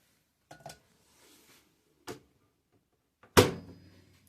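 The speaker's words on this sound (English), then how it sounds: "you just take this, pop it in the microwave" A few separate handling knocks and clunks, then a louder microwave door thump and latch, all close by in a quiet room.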